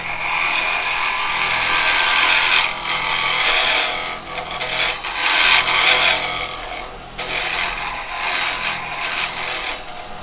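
A carbide square chisel cuts a pine plant pot spinning on a woodturning lathe, making a loud, continuous raspy scraping that swells and dips as the tool passes over the wood.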